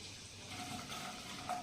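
Sliced onions sizzling in butter in a pan for pav bhaji masala, a steady soft frying hiss throughout, fairly quiet and close, with no talking.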